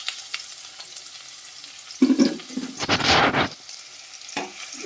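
Chopped garlic and green chillies frying in a pan, a soft sizzle with bursts of stirring and scraping in the middle, close and fairly loud, no talking.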